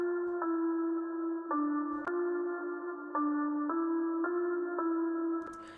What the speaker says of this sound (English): So this is the basic melody and I have used this bell sound.